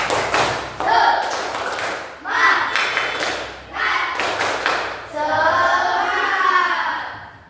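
Indonesian classroom students perform a patterned group clap to build spirit, with bursts of rhythmic clapping broken by short pauses. Voices chant along, ending in a sustained sung or shouted tone.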